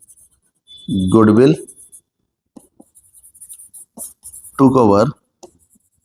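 A pen writing an accounting narration on paper makes faint, light scratchy strokes between stretches of someone talking.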